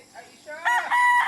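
A Boston White gamefowl rooster crows once, close and clear, its call rising into a loud, strained cock-a-doodle-doo.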